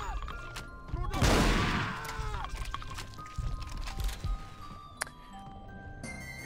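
A shotgun fires in Blood: Fresh Supply, played with the Extra Crispy mod on level E1M4. One loud, close blast rings out and decays, followed by scattered smaller impacts and game sounds.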